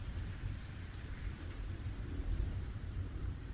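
Rain and thunder ambience for a tabletop role-playing game scene: steady rainfall with low rumbling thunder underneath, quiet and continuous, with scattered drop-like ticks on top and no talking.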